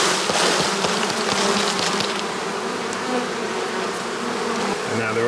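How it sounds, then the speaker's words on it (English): Honey bees are shaken off a frame at the hive. A dense, close swarm buzzes loudly and steadily, with a few thumps at the start and individual bees droning near the microphone. "So this is called shaking the bees."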